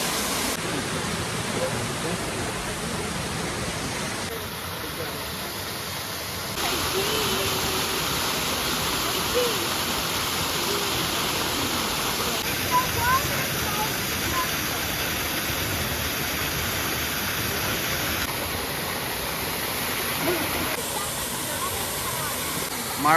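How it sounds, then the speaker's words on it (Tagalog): Steady broadband roar of Marmot Falls, a partly frozen waterfall, rushing continuously at moderate distance, with a faint high whine layered over part of it. "Marmot Falls."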